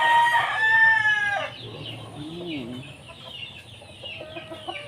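A rooster crows once, loud and close, then hens cluck softly around a farmyard while a person talks nearby.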